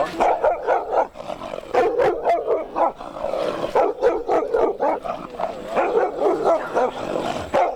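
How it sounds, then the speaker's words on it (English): A guard dog barks repeatedly in loud, close bursts, with yips and short whimpers between the barks, continuing in an uneven rhythm throughout. "Guard dog."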